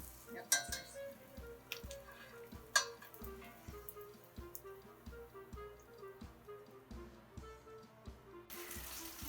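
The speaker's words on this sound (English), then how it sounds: "While our latkes are deep frying" Latkes deep frying, oil sizzling and bubbling steadily in a pan, with occasional clinks of utensils and a low, continuous hum in the background.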